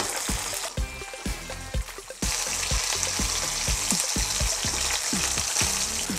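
Flounder fillet sizzles and crackles steadily in a hot pan with butter and garlic, with a brief pause before the frying resumes loudly, punctuated by repeated soft taps.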